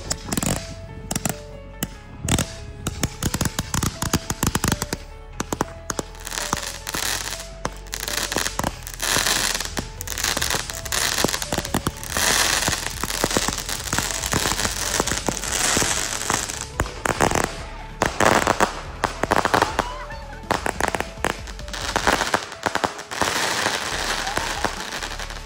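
Firecrackers burst during a Tihar festival celebration in Nepal, a long run of sharp cracks and pops, some in rapid clusters and others spaced apart, loud and close, with faint voices in the background.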